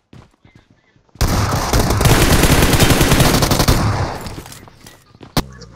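Sustained rapid automatic gunfire in a video game: a dense, loud burst of shots lasting about three seconds, then a single sharp shot after a brief pause, with no talking.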